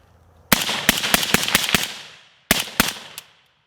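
An AK rifle fitted with a PBS-1 Dead Air suppressor fires a quick string of about seven sharp shots, then after a pause three more, each with a short decay.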